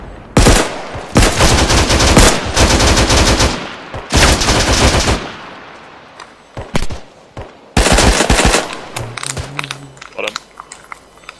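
Loud bursts of automatic rifle and machine-gun fire in the military shooter game Arma 3, several long rattling volleys separated by short pauses, then scattered single shots and clicks near the end, with a voice speaking over parts of it.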